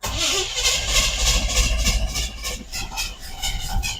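A 1977 Corvette engine cranks and catches after fuel is primed into the carburetor, its steady low rumble continuing close and loud with uneven surges, no talk over it.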